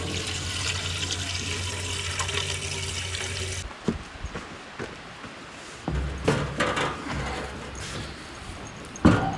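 Liquid runs steadily from the fuel bowl of an old tractor, a Minneapolis Moline, with the water-tainted gasoline pouring at full flow for several seconds. Clanks and handling noises follow once the flow stops.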